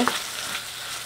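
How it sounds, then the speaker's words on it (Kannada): Onion and tomato frying in a pan, a brief steady sizzle heard close and alone. "2 ನಿಮಿಷ ಈ ಥರ ಫ್ರೈ ಮಾಡಿ"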